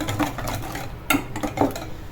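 Cake batter ingredients being mixed by hand with lemon zest in a bowl: brisk stirring with soft clinks of utensil against the bowl and a few sharper knocks, close and continuous.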